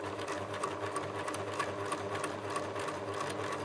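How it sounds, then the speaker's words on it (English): A sewing machine runs steadily, stitching through the center of a ribbon knot on a folded Christmas tree napkin, with a continuous rapid whir that holds at an even level throughout. "I'm just going to sew it through the center of the knot of the ribbon."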